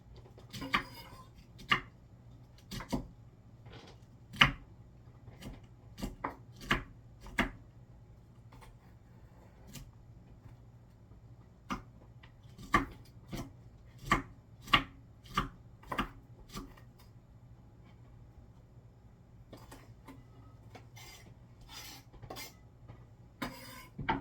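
A knife chops cabbage for homemade sauerkraut in sharp, irregular clusters of crisp thuds on a board, close and fairly quiet against a faint room hum, with no talking.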